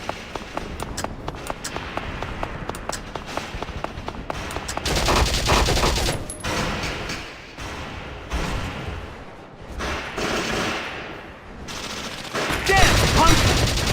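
Gunfire from the strategy game Valkyria Chronicles: rapid, evenly spaced shots crack out at first, then give way to denser, louder sustained bursts that keep up almost without pause to the end.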